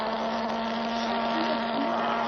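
A Russian drone's engine drones steadily at a high, constant buzzing pitch throughout, revving hard without letting up, with a strong sustained hum and windy noise.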